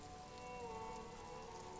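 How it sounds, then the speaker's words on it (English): Rain from the game Disco Elysium falls onto the roof of a woodshed, an even steady patter with soft sustained tonal ambience humming beneath it. "Rain falls onto the roof of a woodshed."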